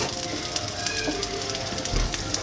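Peeled garlic cloves with black cumin (kalo jeere) in hot oil for a Bengali prawn dish give a steady sizzle, fairly close, with faint crackles and occasional light stirring knocks.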